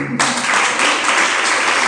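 A brief burst of clapping from a sermon audience, dense and steady for under two seconds, close and loud.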